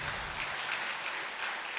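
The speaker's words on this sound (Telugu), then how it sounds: "వాళ్ళందరికీ ఒకసారి గట్టిగా చప్పట్లు కొడదాం" Sustained clapping from a gathered audience at a talk, a continuous fairly soft wash of hands with no voices over it.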